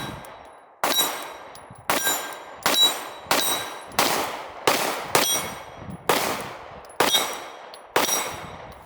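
An RM1C pistol fired in a steady string of about nine sharp, evenly spaced shots, each a bright crack with a short ringing tail, loud and close with no talk.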